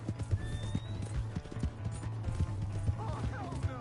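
Horse hooves from Red Dead Redemption 2 clip-clop in a steady, close walking rhythm, with brief voices and a faint whinny near the end.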